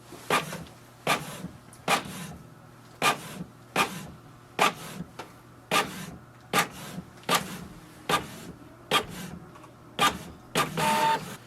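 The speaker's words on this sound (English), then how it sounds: "It will send a command for the printer to print the network configuration page." A Canon Pixma MG3600 inkjet printer prints a network configuration page, its mechanism making a steady series of loud, regular clunks and whirring feed strokes about once a second, close up with no talk.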